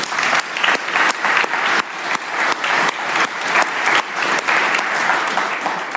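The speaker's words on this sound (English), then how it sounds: "Can we have a round of applause, please?" A live audience applauds in loud, close rhythmic waves of clapping, swelling and dipping repeatedly across several seconds.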